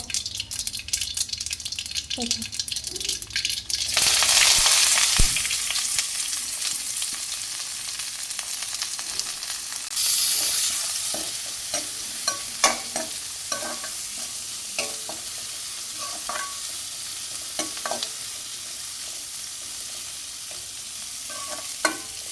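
Onion and green chilli fry in a pan after mustard seeds. A steady sizzle runs with frequent stirring scrapes and clinks, and louder hissing bursts rise when the ingredients go in.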